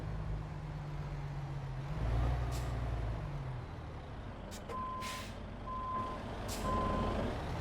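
Truck reversing beeper in Euro Truck Simulator 2, a steady run of evenly spaced electronic beeps heard over a low diesel engine rumble, with a brief air-brake hiss early on.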